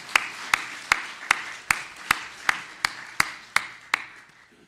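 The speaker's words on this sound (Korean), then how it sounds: "하나님께 영광의 박수 올려드리시겠습니다." A church congregation claps together in a slow, steady unison rhythm, about a dozen crisp claps evenly spaced and fairly close, with no talking.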